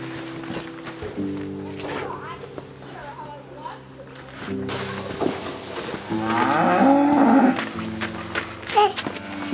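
Cattle mooing at morning feeding time on a cold-weather farm, several long, low moos overlapping near and farther off, with someone talking over them.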